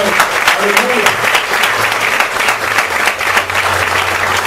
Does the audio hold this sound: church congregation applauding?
yes